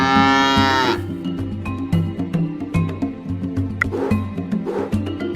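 A cartoon cow moos in a toddler farm animal puzzle video game, one long harmonic moo that cuts off into a busy, bouncy music loop with tapping effects.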